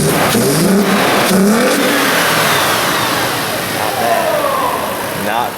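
A 2017 Toyota 4Runner fitted with a K&N intake starts up and is revved, its engine rising and falling in several loud, close blips before settling.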